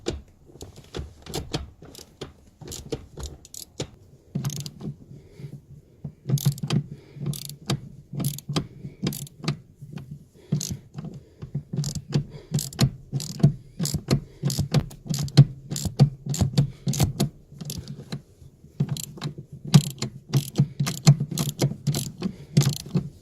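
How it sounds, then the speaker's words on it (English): A T50 ratchet clicks steadily while undoing a car seat bolt, a fast run of close, crisp ratcheting clicks in repeated strokes with brief pauses between. "You want to undo that with a T50 ratchet."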